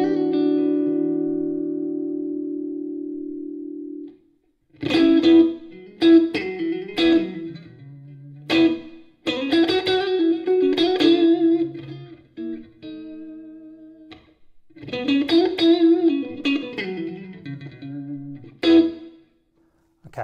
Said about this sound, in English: the standard reverb as a default is a hall